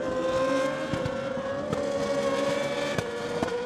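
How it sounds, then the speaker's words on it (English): Formula Renault 3.5 race cars at MotorLand, a sustained high-pitched engine whine with shifting pitch and sharp crackles, loud and continuous with no speech. "There's plenty of overtaking action as Ponce Racing's Jan Cunha comes to blows"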